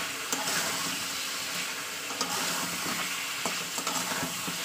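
Chicken pieces saute in a pan with salt and turmeric for a chicken kosha with potato, giving a steady close sizzle with occasional scraping stirs and no talk.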